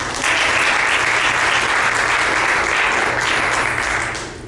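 A church congregation applauding during a Spanish-language sermon, loud, sustained clapping from many people filling the room, steady throughout before tapering at the very end.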